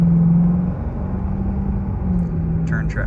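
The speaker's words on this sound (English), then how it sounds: "But this car launches pretty well." A 2017 Chevrolet Corvette C7 Z51 launches hard, its V8 rumbling loud and low from inside the cabin as the engine note holds and climbs briefly, with no talking.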